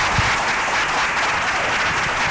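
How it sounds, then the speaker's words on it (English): Audience applause for a producers' panel at a business event, steady dense clapping throughout, fairly loud and close, with no voices over it. "Let's give our panel a round of applause."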